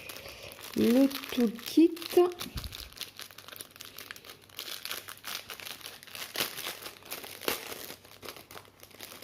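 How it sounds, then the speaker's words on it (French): Parcel packaging crinkles and tears loudly for a couple of seconds as the box is opened, followed by quieter rustling and handling noises, with a person speaking briefly. "je vais déjà ouvrir le colis"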